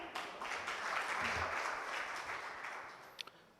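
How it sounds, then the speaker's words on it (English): Applause from a conference audience at a livestreamed tech event, a faint, fairly short wash of clapping that swells and then tapers off, with a couple of sharp taps near the end. "Please give a loud round of applause for him."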